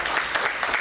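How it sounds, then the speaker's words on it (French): A church congregation applauding for Jesus during a sermon: dense clapping in close, uneven bursts that swell and ease over a brief moment, with no voices over it. "Applaudissons encore pour Jésus."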